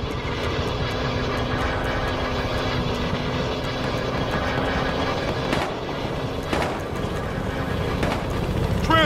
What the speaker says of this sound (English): Transport copter.